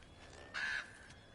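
The raven Hugin in God of War Ragnarok gives a single clear caw, a short harsh call over a quiet game backdrop.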